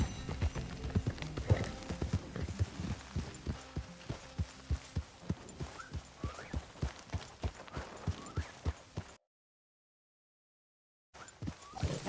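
Horse hooves clip-clop at a steady walking rhythm in Red Dead Redemption 2, close and fairly loud over a low ambient bed, then cut off by a short stretch of silence before resuming briefly.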